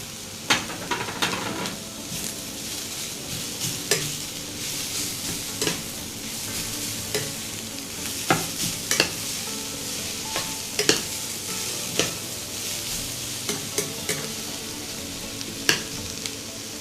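Grated carrot sizzles steadily in a frying pan, with frequent sharp clicks and scrapes from a utensil stirring it, a continuous close hiss and no voices.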